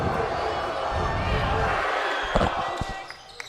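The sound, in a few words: basketball home crowd getting loud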